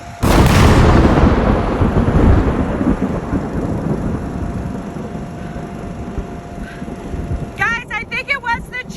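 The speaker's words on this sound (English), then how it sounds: "Our house was struck by lightning." Loud thunderclap from a lightning strike on a house, a sharp crack at the start rolling into a long rumble that fades, with people talking afterward.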